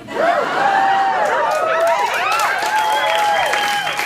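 A loud late-night TV talk show studio audience cheers and whoops continuously, with whistles and shouts rising over a dense wall of applause.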